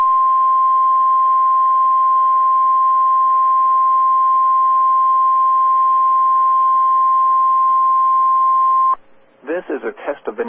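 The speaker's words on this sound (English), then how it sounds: "This is a test of the National Weather Service NOAA Weather Radio All Hazards Warning Alarm System" Long steady NOAA Weather Radio warning alarm tone for a National Weather Service test, a single loud unbroken pitch lasting about nine seconds, then cutting off as a broadcast voice begins speaking.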